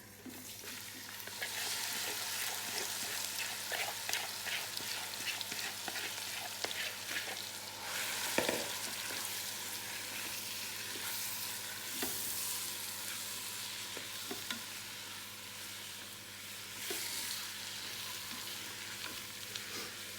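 Curry mixture of onion, juices and spices frying in a Ninja Foodi pot, giving a steady, close sizzle with a few faint clinks and scrapes scattered through, and no talking.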